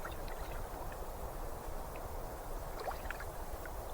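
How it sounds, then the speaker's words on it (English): Lake water laps softly and steadily against wooden piles below a lakeside spot at dusk, a low continuous wash with faint small splashes, calm and unhurried. "The lake is just below, keeping time. Lap and lap."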